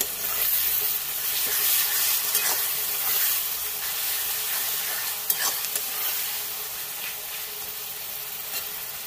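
Ginger paste with ground garlic and green chili frying in a pan for crab curry gives off a steady close sizzle, with repeated scraping strokes of a spatula stirring it.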